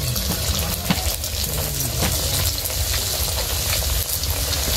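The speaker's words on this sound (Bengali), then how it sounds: "দেখুন কড়াইতে তেলটা গরম হয়ে গেছে, এবার পিঠেগুলো এক একটা করে ছেড়ে দেবো" Gokul pithe, sweet Bengali dumplings, fry in hot oil in a wok with a steady, dense sizzle and crackle, close and loud, with no voices.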